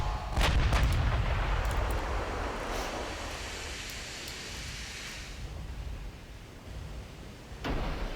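Naval guns firing in the warship game Ultimate Admiral Dreadnoughts: heavy booming salvos that roll into a long, dense rumble of distant shellfire, fading slowly, with a fresh blast near the end.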